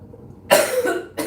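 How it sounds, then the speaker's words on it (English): A woman coughs two times, close and loud, a harsh burst followed by a shorter second cough. "I'm coughing a lot"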